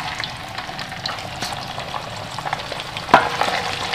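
Mutton mince bones frying in hot oil with cumin, a steady close sizzle with occasional spoon scrapes and one sharper clatter near the end, no voices.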